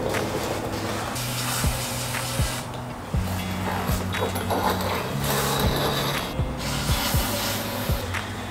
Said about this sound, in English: Go set your brake, your emergency brake.